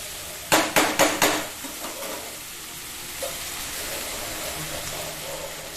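Okra and onion frying in a pan, with a few sharp scraping stirs at the start giving way to a steady, even sizzle.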